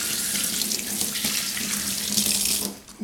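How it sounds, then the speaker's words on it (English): Steady rush of tap water pouring into a sink, loud and close, continuous for about three seconds before tapering off at the end. "Maybe I should just blast it with water."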